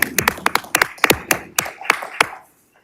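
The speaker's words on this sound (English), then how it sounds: "we'll get a round of applause" A small group at a board of education meeting claps in a sparse, uneven run of distinct handclaps, close and fairly loud, tapering off after a couple of seconds into quiet.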